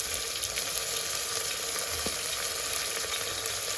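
About 150 g of small shallots and three green chilies sizzle in a pan for quail biryani, a steady close crackling fry with a faint stir or scrape partway through.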